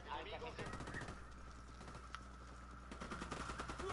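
Rapid automatic gunfire in the video game Ghost Recon Wildlands, sustained bursts of crackling shots with a short pause in the middle, heard beneath ongoing game background and voices.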